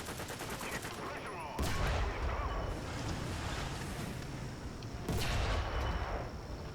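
Tank cannon fire in the War Thunder video game: two heavy booming shots several seconds apart, each followed by a rumbling tail over a constant engine drone.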